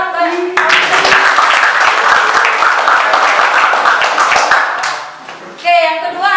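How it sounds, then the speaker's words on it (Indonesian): Classroom applause for a student, a burst of quick, dense hand claps from a group lasting several seconds before fading, with voices briefly heard before and after. "Kalaupun belum sempurna kita kasih tepuk tangan ke"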